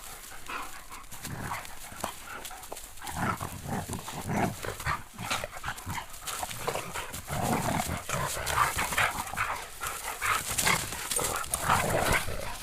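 Several dogs play-fight with bursts of growling, panting and scuffling that rise and fall unevenly, loud and close, with occasional whimpers.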